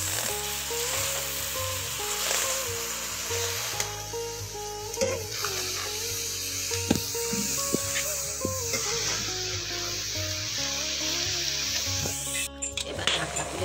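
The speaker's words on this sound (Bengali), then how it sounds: "এবার ঢাকনা খুলে একটু নেড়ে দেব।" Home-grown taro greens sizzle in a pan over a clay stove and are stirred once the lid comes off. A dense, steady frying hiss runs throughout, with occasional soft knocks of the spoon against the pan.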